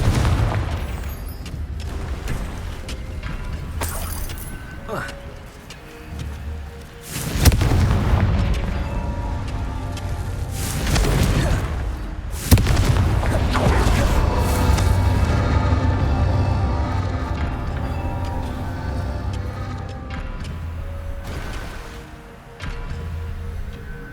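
Confringo fire spells burst in Hogwarts Legacy, heavy booming explosions with crackling fiery tails, a few big loud blasts spaced several seconds apart among rumbling combat effects and quieter gaps.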